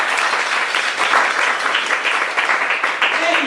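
Audience applause at a Miss Afrique Montréal 2013 quiz show rewarding a contestant's correct answer, a dense steady wash of clapping held at even loudness for a few seconds.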